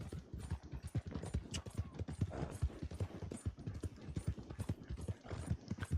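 A horse gallops in Red Dead Redemption 2, its hooves thudding in a quick, regular clip-clop at moderate volume beneath soft ambient background.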